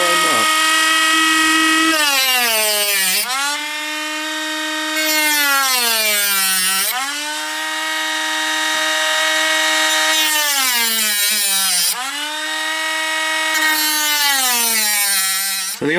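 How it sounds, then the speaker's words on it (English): A Dremel rotary tool cuts through model railway rails, giving a loud, continuous high-pitched whine whose pitch dips and recovers in several cycles as the cutting wheel bites into the metal. "I'm just going to take my Dremel tool and cut through the rails right where I mark."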